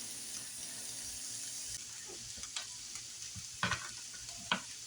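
Food frying in olive oil in a pan, a soft steady sizzle broken by a few sharper splatters and scrapes as things are stirred, close but fairly quiet, without speech.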